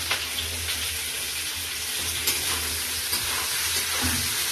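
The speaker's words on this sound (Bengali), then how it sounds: "ক্যাপসিকাম ভাজা ভাজা হয়ে গেছে, এবার পেঁয়াজ কুচিটা দিয়ে দেবো।" Chopped onion and capsicum frying in a pan for mutton curry give a steady, dense sizzle throughout, with occasional scraping stirs close by.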